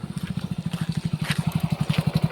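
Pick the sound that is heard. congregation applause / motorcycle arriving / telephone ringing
motorcycle arriving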